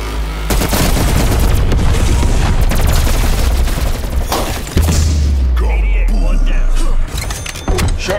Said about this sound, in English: Shotguns never go out of style.